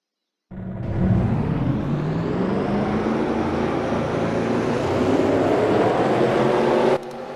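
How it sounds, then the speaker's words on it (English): Race car engines roar to life in a racing video game at a dirt-covered Bristol track, a sudden loud start followed by a sustained, rising engine drone that cuts off abruptly near the end. "Drivers, start your engines."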